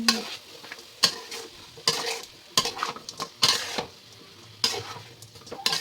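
Rhythmic scraping and clanking of a spoon stirring chicken with masala in a metal pot, about eight strokes over a faint sizzle, no speech.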